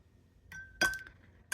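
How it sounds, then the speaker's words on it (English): A watercolor paintbrush is rinsed in a glass of water, giving a brief clink of the brush against the glass followed by a faint ringing tone, close and alone in a quiet room. "Rinse my brush."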